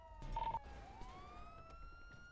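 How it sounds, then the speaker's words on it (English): A police car siren in GTA 5: a wailing tone that rises and sweeps upward after a short burst of noise, then holds steady, moderately faint with no talk. "Turn your siren off real quick"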